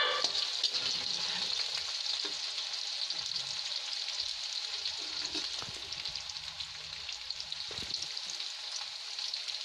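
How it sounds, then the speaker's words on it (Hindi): Two finely chopped onions fry in a pan for a mixed vegetable sabji, a steady close sizzle with occasional stirring scrapes, heard alone without talk. "डालेंगे प्याज 2 बारीक कटे हुए, इसको हल्का गोल्डन होने तक भूनेंगे।"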